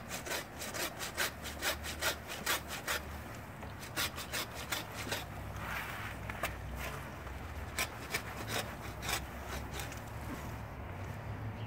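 A handsaw cuts through the trunk base of a fresh-cut Christmas tree, trimming off about half an inch in steady, rhythmic rasping back-and-forth strokes, close and loud with no talking.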